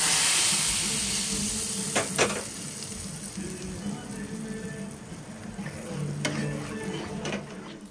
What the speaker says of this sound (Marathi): असंच उकळतं तेल आता मी डाळीमध्ये ओतणार आहे.